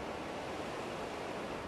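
Ocean surf rolling onto the Irish Sea coast off Scotland and Northern Ireland, a steady broadband wash of breaking waves with no distinct individual crashes, alone with no voices.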